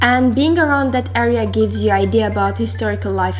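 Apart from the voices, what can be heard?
None of the usual background noises is heard.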